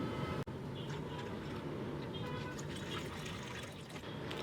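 Water poured into glasses of iced tea over crushed ice, lemon slices and tea mix, a steady close trickling fill that runs unbroken for several seconds at low volume.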